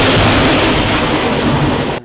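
Thunder as a loud, broad rumbling roar that fills the whole moment and cuts off abruptly at the end, close and dominant with no voices over it.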